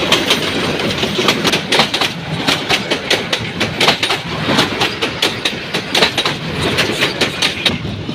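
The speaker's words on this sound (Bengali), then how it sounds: "এখন দেখেন ট্রেন আস্তে আস্তে, ট্রেনের একটা ভয়ঙ্কর আওয়াজটা শুই না যান সবাই।" A train rumbles past close by, a loud continuous roar with rapid rhythmic clickety-clack of wheels over rail joints throughout, no talk over it.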